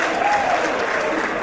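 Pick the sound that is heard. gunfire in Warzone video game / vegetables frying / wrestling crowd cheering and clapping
wrestling crowd cheering and clapping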